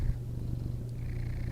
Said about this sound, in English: He's purring. I don't know if you can hear him purring.